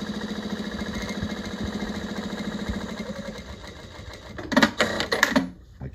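A JUKI DLN-9010A-SH needle feed industrial sewing machine runs at a steady mechanical hum with fast regular stitching clatter for several seconds, then slows, and louder clunks and rattles follow near the end.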